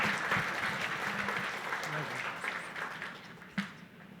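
A panel audience at an International Archives Day event gives fairly faint, scattered clapping that slowly thins out over a few seconds, with a speaker's voice overlapping.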